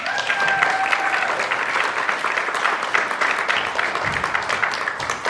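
Audience at a magic and hypnosis stage show claps steadily as a volunteer comes up, a continuous patter of many hands with a faint voice under it.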